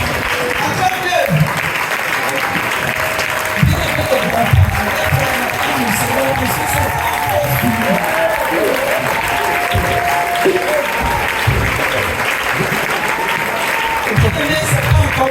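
A church congregation applauds loudly and continuously during a worship service, the clapping dense and sustained, with voices calling out over it.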